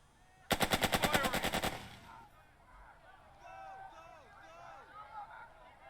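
A machine gun fires a loud, rapid burst of about a dozen shots in the Burden of Command video game, followed by faint battlefield sounds and soft background voices.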